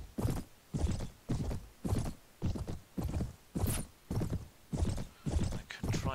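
Horse hooves beat a steady clip-clop rhythm in the video game Mount & Blade, with a neigh near the end; the strides repeat about every half second, loud and close.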